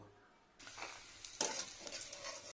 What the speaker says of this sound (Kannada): ಹೀಗೆ ಕಡಲೆ ಬೀಜವನ್ನು ಹುರಿದು ಸೈಡ್ನಲ್ಲಿ ಇಟ್ಕೊಳ್ಬೇಕು